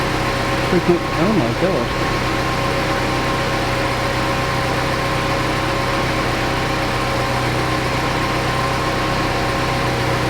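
Saab 90 engine idling with its cooling fan running, a steady close drone with a brief voice exclamation near the start.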